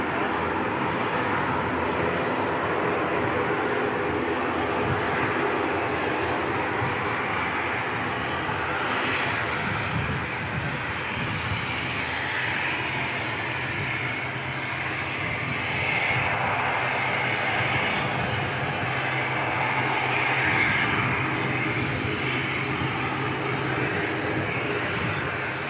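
Aircraft backtracking along runway 11 at Christchurch Airport: a steady, continuous engine roar with broad rumble and hiss, holding a fairly even level at a moderate distance throughout.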